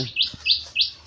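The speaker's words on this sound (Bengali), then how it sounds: "ওদিকে শালিক পাখি ডাকাডাকি করতেছে" Common myna birds call outdoors in a garden, three rising chirps spaced evenly at close to middle distance with no voices.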